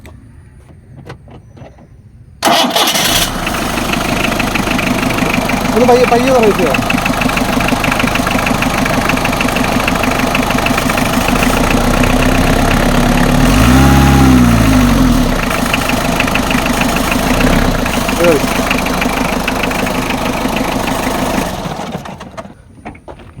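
A modified Ambassador car engine cranks and catches, then settles into a loud, steady idle with a slight rev swell midway, running close for about twenty seconds before shutting off; a voice speaks briefly at the start.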